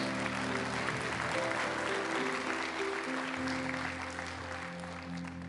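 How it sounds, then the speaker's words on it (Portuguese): A church congregation applauds, steady dense clapping from many hands that fills the space and holds for several seconds while sustained organ or keyboard tones play underneath. "Você deveria estar aplaudindo e glorificando o Senhor bem forte."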